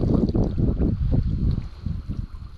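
Wind gusts across the Songkhram river, buffeting the microphone in low, uneven rumbling bursts that swell and ease over a couple of seconds.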